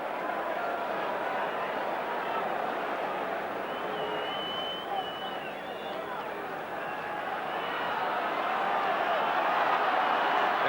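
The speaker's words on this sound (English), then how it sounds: "The crowd urging them forward." A football crowd roars and urges on Southampton during extra time of the Norwich City v Southampton FA Cup quarter-final replay. The broad, sustained noise swells toward the end, and a commentator talks over it throughout.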